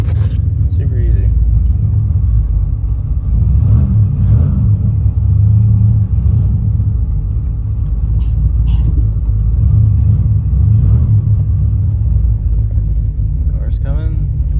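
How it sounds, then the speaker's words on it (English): A car drives past outdoors, its low engine rumble steady and loud throughout, with faint clanks of work on a vehicle's transmission nearby and no one talking over it. "Car's coming."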